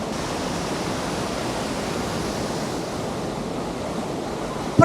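Water rushes over Pocharam Dam as it overflows. The roar is loud and steady and close by. It is a broadband wash that does not let up, with a brief knock right at the end.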